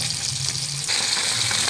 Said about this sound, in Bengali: এদিকে যে মাছ ভেজে নেবো